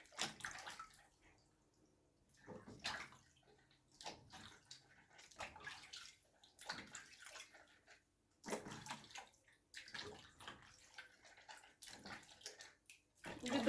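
Tap water runs in intermittent bursts as vegetables are rinsed in a home kitchen while preparing a summer salad for canning, faint and close, with pauses between splashes.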